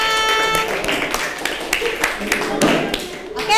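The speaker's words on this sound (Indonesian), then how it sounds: "beri tepuk tangan buat kita semua" A class of students claps together after a group exercise activity in a school lesson, uneven bursts of hand claps mixed with chatter and voices throughout.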